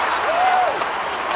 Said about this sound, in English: just made the Cats fans cheer even more